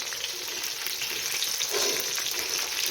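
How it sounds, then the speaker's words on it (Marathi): Whole green chillies frying in hot oil, a loud, even crackling sizzle filling the whole stretch, swelling slightly near the end, close up with no speech. "तर अशा प्रकारे आपण या मिरच्या टाकून घेऊया तेलामध्ये तर सर्व मिरच्या आपण तेलामध्ये टाकलेल्या आहेत"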